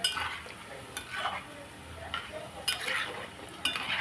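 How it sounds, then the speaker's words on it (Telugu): Moong dal fritters (punukulu) fry in hot oil with a soft continuous sizzle, broken by several sharp metallic clinks and scrapes of a utensil against the pan. "ఇదిగోండి వేగుతున్నాయి కదండి"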